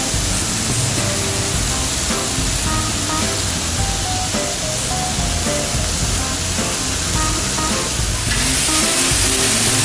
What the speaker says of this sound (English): that way my onions and peppers can go ahead and saute.